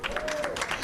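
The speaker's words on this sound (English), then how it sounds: "let's give them a better round of applause" Audience applause at a women's rights convention, a dense patter of clapping hands that runs steadily beneath a speaking voice.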